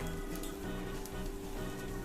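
Five chopped green chillies hit a hot pan while bitter gourd poriyal cooks, giving a soft, steady crackling sizzle.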